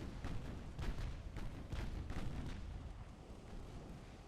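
Naval gunfire from warships in Ultimate Admiral: Dreadnoughts, a steady run of booming shots and thuds layered over a continuous low battle rumble, loud and dense throughout with no talking.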